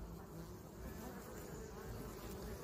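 Honeybees buzzing around a hive, with a wooden block near the entrance, giving a steady close drone of many wings that holds throughout without pause.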